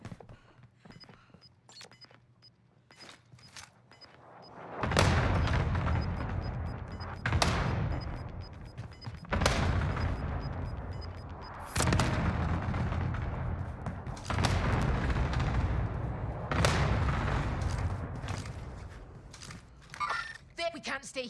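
A called-in artillery strike in Warzone: a series of heavy, booming blasts land one after another at irregular intervals, loud and close, preceded by quieter mechanical clicks and followed by scattered rumbling debris.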